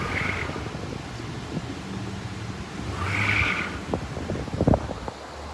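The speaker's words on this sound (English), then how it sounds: "look at the difference in the tires spinning" Vehicle tires spinning and digging into hard-packed beach sand at St Augustine Beach, aired up to 30 psi in 2-wheel drive, a broad rough rumble with revving surges, wind noise and a few sharp thumps near the end.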